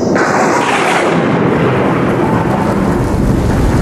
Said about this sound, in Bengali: এই যা, এর বৃষ্টি শুরু হয়ে গেল।